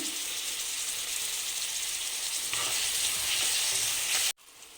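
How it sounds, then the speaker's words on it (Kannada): Tomatoes frying in oil for mixed rava upma make a dense, steady hiss that grows slightly louder midway and then cuts off abruptly near the end, close and alone. "ಹೀಗೆ ಎಣ್ಣೆಲೆ ಫ್ರೈ ಆಗಬೇಕು"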